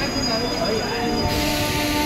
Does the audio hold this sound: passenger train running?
yes